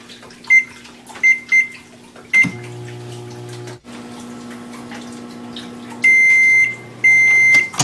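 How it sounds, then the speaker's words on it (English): Several short beeps from a microwave oven, then its steady hum as it heats, ending with more loud beeps. "we're going to carefully heat it till it's nice and warm in a microwave"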